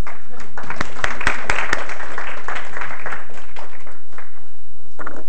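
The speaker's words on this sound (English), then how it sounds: "Deserves a round of applause." University lecture audience giving a brief round of applause for a winner, scattered claps near and loud at first, then fading under murmuring voices.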